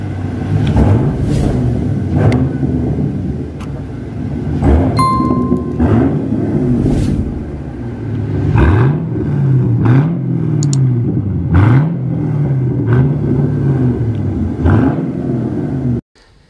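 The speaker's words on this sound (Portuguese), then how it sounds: "Vamos escutar um pouquinho do motor dessa nave" 2011 Chevrolet Camaro SS V8 at a bank repossession auction, revved repeatedly in sharp blips that swell and fall back to a deep rumbling idle, close and loud, with no talking.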